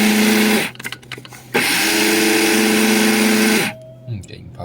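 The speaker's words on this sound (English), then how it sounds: "One of the best investments I ever got is this little coffee grinder." A small electric coffee grinder whirs loudly in two bursts, a short run and then a longer, steady grind. A brief pause separates them, with a voice heard at a lower level.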